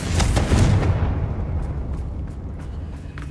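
Confringo blasting spell in Hogwarts Legacy, a loud booming explosion with a crackling burst that rolls into a low, fading rumble, with no voices.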